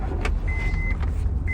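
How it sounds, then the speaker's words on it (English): From inside a car, a power window hums steadily over the low engine and road rumble, with a few light clicks around the motor whine and no talking. "As you can tell, I'm in the car."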